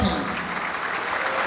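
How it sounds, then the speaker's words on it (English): Audience applause after the Minerals Income Investment Fund chief executive is introduced at a university speaker series, a dense steady wash of clapping with some voices mixed in. "Let the applause ring."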